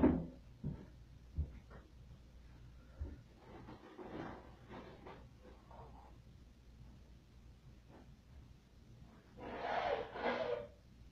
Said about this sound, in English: I'm gonna blow my nose now.